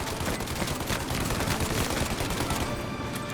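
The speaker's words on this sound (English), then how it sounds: "Shoot out the windshield!" Rapid gunfire rattles in a continuous dense burst as shots hit a car windshield in Mafia Definitive Edition, loud and close, tapering near the end without talk.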